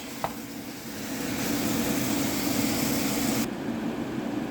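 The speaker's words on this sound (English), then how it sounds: "you add a pound of ground meat and cook it till it's nice and browned" A pound of ground meat browning in a pan for baked ziti, giving a steady broadband sizzle that swells louder after a second, with a faint tap near the start, no talking.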